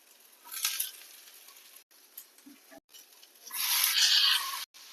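Soybean chunks frying in hot oil with cumin and onion, a crackling sizzle that swells in two bursts, the second louder and longer, with brief quiet gaps and a few soft stirring scrapes between.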